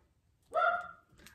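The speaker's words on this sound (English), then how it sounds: "Can my dog be quiet? I don't know what he's barking at." A pet dog gives a single short indoor bark, fairly faint and alone against a quiet room.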